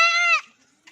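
A goat kid bleats once, loud and close, a single strained cry that cuts off abruptly while the young goats nurse, followed by faint rustling.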